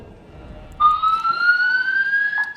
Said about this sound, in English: Sorry, that's the fire alarm.